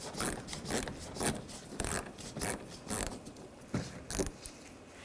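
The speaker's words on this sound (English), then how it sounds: "I'm just going to use a screwdriver bit, a Phillips head screwdriver bit, and a ratchet" A hand ratchet driving a Phillips bit works screws out of a mud flap on a 2014-2020 Nissan Rogue, giving a quiet, close series of rapid clicking strokes in an uneven rhythm.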